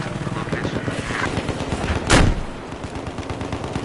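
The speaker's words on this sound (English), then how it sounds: "Got another helo right here too." Gunfire in Battlefield 4 crackles continuously amid game noise, with one louder blast standing out midway; any helicopter rotor is buried in the dense combat mix.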